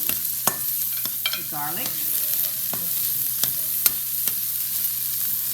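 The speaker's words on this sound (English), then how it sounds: "we're going to put in the celery and cook that for about 3 minutes" Celery and onions sautéing in a pan, a steady broad sizzle with scattered sharp clicks of a utensil against the pan; a voice briefly speaks over it.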